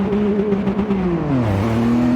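Classic race cars in an RXGT N300 rallycross event roar off the start line together, loud engines revving and rising in pitch as the pack accelerates away, with a shift dip partway through.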